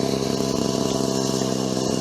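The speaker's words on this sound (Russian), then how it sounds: "Шумно, конечно, там двигатель орет." A walk-behind tractor engine driving a winch roars loud and close, a dense, steady mechanical drone with no pauses, heard alone for two seconds.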